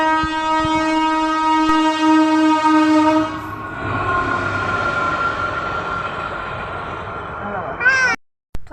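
A long, blaring train horn sounds at the Suramanagar railway level crossing, then the heavy rumble and rattle of a train rolling past before it cuts off abruptly.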